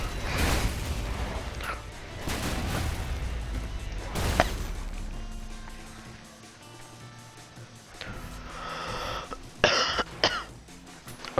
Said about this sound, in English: I just coughed in the mic and it died